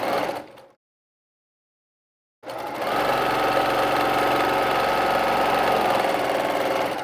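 A sewing machine stitches a quilt appliqué piece, running in a steady, continuous mechanical whir after a short pause of silence, close and loud with no talking.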